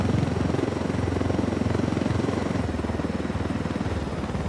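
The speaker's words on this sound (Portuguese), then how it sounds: "Vou usar esse helicóptero aqui." A video game helicopter thrums with a rapid, steady rotor chop over a dense engine roar, loud and continuous.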